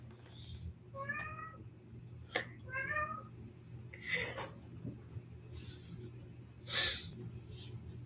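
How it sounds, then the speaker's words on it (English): A house cat meows twice in short, clear calls over a steady low indoor hum, with soft sniffs and rustles between. "My other cat has gone crazy again."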